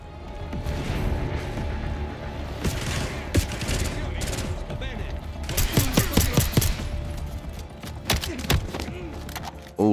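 Chaotic gunfire in Call of Duty Black Ops 6, with scattered bursts, single shots and impacts layered over a dense battle din, some brief voices mixed in.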